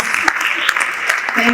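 An audience at a languages conference applauds with a dense, continuous patter of many hands, fairly loud, with a voice speaking faintly through the clapping.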